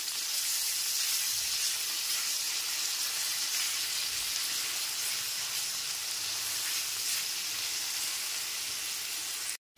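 Ginger garlic paste fries with onions in a pan, a steady, loud close-up sizzle and hiss that keeps going almost without a break and then cuts off at the end.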